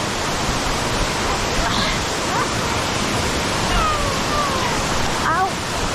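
Rutledge Falls is a waterfall with a steady, broadband roar that fills the whole scene at close range. Faint splashing and brief voices sit underneath it.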